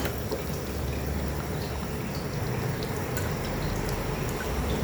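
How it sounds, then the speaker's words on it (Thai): A pot of Thai sour chicken curry bubbles and simmers steadily up close, a dense continuous hiss of boiling liquid with occasional small pops. "หม้อเริ่ม เดือดแล้วค่ะ"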